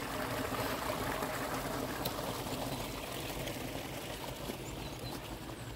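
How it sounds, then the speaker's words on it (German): Water from a brook in a park in Pirmasens on a wintry day, a steady broadband rush of flowing water that holds at an even, fairly close level from start to finish with no voices. "Das fließt da runter durch den Bach."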